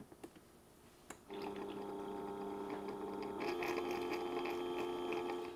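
A Cuisinart single-serve coffee maker runs a water and vinegar cleaning cycle after a button click, starting with a pump hum and then brewing with gurgling and spitting liquid that builds and continues steadily, fairly close and quiet.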